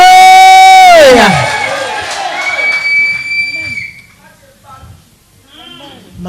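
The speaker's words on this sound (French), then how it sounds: "je crois que tu vas te lever et acclamer très fort." A church congregation during a worship service cheers and acclaims loudly. A strong sustained voice opens, then a broad swell of crowd noise follows and gradually fades to scattered shouts.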